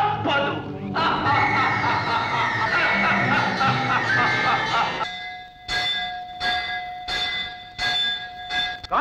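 A bell rings out in a Telugu mythological film, sounding as a series of clear, resonant strikes with lingering tones after a stretch of loud orchestral music.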